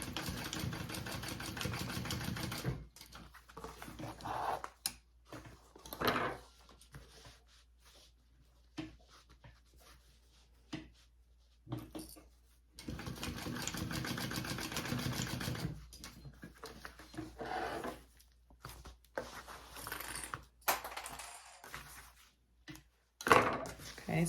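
A sewing machine bastes a fabric panel for a colouring caddy with a handle. Quiet, close bursts of stitching whir start and stop, separated by short silent gaps.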